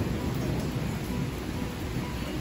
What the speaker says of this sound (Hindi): बहुत ही ज़ोर ज़ोर से बारिश हो रहा है।